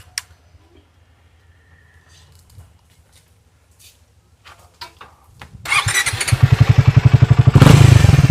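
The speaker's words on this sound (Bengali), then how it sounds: "দেখে নিন এক্সস্টের সাউন্ডটা কীরকম রয়েছে" A Triumph Speed T4 motorcycle exhaust starts up after a few quiet seconds of small clicks and handling noises, then rumbles loudly and close with a throbbing, revving note.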